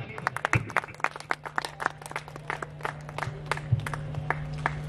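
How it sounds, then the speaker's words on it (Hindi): Scattered hand claps from a small audience at a Kumbh Mela performance, sharp and uneven, building into brief applause over a low steady hum. "एक बार तालियां बजाइए।"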